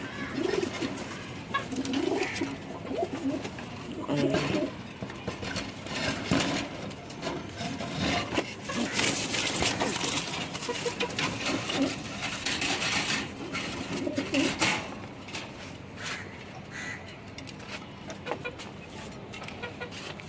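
Pigeons coo steadily in a Bangladeshi pigeon loft, their low, repeated coos close and continuous for about twenty seconds. Other bird chatter and occasional clucking from fowl mix in, and no one speaks.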